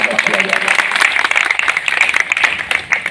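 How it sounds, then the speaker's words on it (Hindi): A crowd claps to welcome guests at a road safety and traffic awareness training program, a loud, dense run of applause with a voice speaking over it. "थोड़ा सा क्लैपिंग, थोड़ा सा तालियां बजाकर उनका स्वागत किया जाए।"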